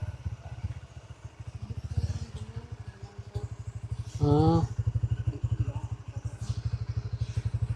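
A motorcycle engine idles and chugs with a steady pulsing rhythm during a ride toward Kaybiang Tunnel, joined by a short louder burst near the middle and faint background voices.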